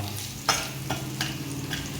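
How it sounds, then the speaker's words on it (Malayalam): Dried red chillies fry in hot oil in a pan with a steady sizzle, while a spoon scrapes and stirs them in a few distinct strokes, close and clear. "ഇനി വറ്റൽമുളക് ആഡ് ചെയ്യാൻ പോവാണ്"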